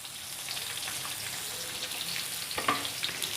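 Onions frying in a hot pan for a mixed vegetable dish give a steady, close sizzle with scattered small pops and crackles throughout, with no talking.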